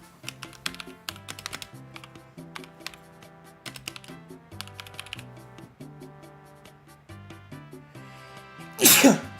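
A single sharp sneeze bursts out near the end, following a stretch of close computer keyboard typing.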